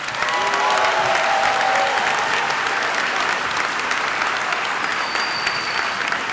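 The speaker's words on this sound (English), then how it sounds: "Can we give them a round of applause?" Guests at the Lane Community College commencement ceremony give a full, steady round of applause, a dense wash of clapping from a large crowd with faint tones and voices underneath.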